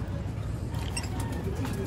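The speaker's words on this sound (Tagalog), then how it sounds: "panoorin nyo lang maligo yung mga ibon para" Pigeons coo softly in the background as they bathe in a shallow pan of water set out in the sun, with a steady low wash of sound beneath them.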